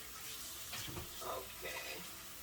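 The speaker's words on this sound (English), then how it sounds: "So I'm gonna let this warm water clean it here" Warm tap water runs steadily over raw chicken wings being rinsed in a kitchen sink, a continuous close splashing hiss with a few louder gushes where the wings shift under the stream.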